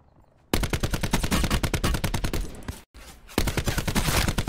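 Rapid automatic gunfire in the Call of Duty Black Ops video game, two long loud bursts of fast, evenly spaced shots separated by a brief gap.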